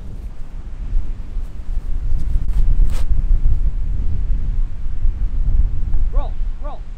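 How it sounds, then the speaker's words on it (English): Wind buffets the microphone on a golf course on an island, a steady, loud, low rumble that fills the whole stretch, with a few faint bird chirps near the end. "The wind is just straight into her face."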